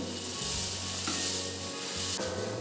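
Poha with coconut, already roasted in oil, being stir-fried with masala for Diwali dahi pohe chivda: a close, continuous sizzle with scraping stir strokes, no talking.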